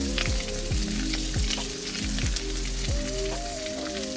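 Asparagus seasoned with salt and garlic powder sizzles in a pan in a backyard kitchen, a steady frying crackle with repeated clunks of the pan or utensil and a faint tone rising briefly near the end.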